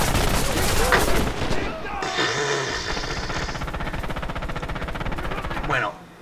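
Gunfire in Red Orchestra 2: bursts of rifle and machine-gun shots with a droning engine and distant rumbles, under someone speaking Spanish.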